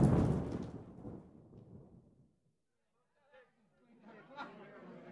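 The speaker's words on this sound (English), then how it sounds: "Tonight, there is a terrible storm, and it is raining." A loud thunderclap rumbles and slowly fades away, leaving near silence with a few faint, scattered sounds.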